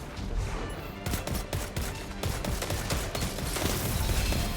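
Rapid bursts of fusion rifle fire from Destiny, loud and close, with several sharp shots landing in quick succession over a dense, steady wash of game noise.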